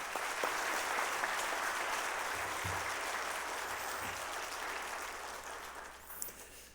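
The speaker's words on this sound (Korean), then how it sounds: "나오실 때 뜨거운 박수로 우리 환영하십시다." Sustained, moderately distant applause from a church congregation welcoming a guest speaker at a Wednesday women's devotional service, a steady wash of many hands that fades slightly toward the end.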